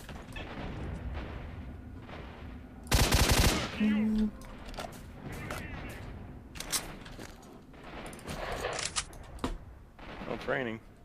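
In the STALKER video game, enemy gunfire sounds as a loud burst of rapid automatic shots followed by scattered bangs and impacts, with someone talking in between.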